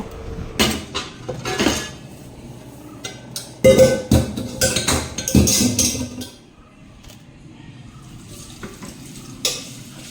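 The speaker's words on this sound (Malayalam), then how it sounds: "അപ്പം ഇനി ഈ പാത്രങ്ങളൊക്കെ ഒന്ന് കഴുകി പെറുക്കിയാൽ തന്നെ ഒരുവിധം എല്ലാം സെറ്റായിട്ടോ." Cooking pots and dishes being washed and gathered in a home working kitchen, with sharp metallic clanks and clatters in uneven bursts, a busy stretch in the middle, then quieter with one last knock.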